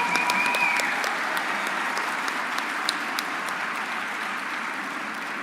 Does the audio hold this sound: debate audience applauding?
yes